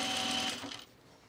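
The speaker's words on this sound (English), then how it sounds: "And you can edge stitch the other side" A sewing machine runs a close, steady edge stitch along the folded fabric of a divided basket, loud at first and then stopping, with only a faint hum after.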